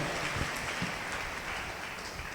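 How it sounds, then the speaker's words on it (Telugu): Congregation clapping hard during a Telugu church revival sermon, a dense, steady wash of hand claps filling the whole short stretch with no voices over it. "గట్టిగా చప్పట్లు కొట్టండి"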